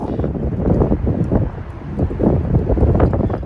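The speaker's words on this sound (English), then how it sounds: "I'm having a hard time with the wind. It's just insane." Strong gusty wind buffeting a van pulled over on the road near Las Vegas, a loud continuous low roar with surging gusts, heavy microphone rumble, no speech.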